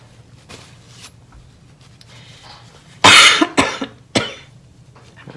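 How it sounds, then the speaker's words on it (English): A few harsh coughs burst out close by after a quiet stretch, two or three sharp bursts in a row with brief pauses between them. "Doing a lot of coughing here."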